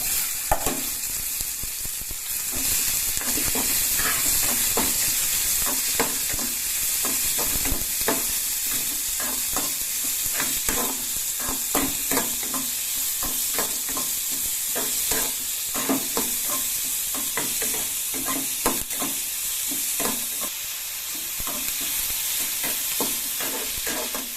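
Onions and browned lentils sauté in a pan for a black kavuni rice dosa, with a loud, steady sizzle and frequent rapid spatula scrapes and taps across the whole stretch.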